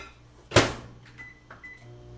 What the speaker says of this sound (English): so I'm going to put it in the microwave for let's put it in about 30 seconds or so